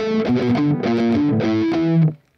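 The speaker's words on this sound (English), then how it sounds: "You can hear there's the palm mute" Chugging palm-muted distorted electric guitar playing a short riff from a song in tight, choppy notes, ending on a held note that cuts off.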